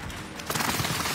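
Gunfire in a video game during an airstrike scene: a sudden wall of dense, continuous shooting cuts in after a brief quieter moment and keeps rattling loudly to the end.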